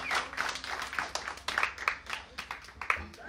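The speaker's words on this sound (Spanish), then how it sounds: "Un fuerte aplauso para ustedes" Audience applause at a live music show, a fairly faint crowd clapping with scattered sharper claps and some background voices, continuing throughout.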